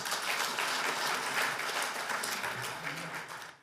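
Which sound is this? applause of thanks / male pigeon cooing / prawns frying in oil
applause of thanks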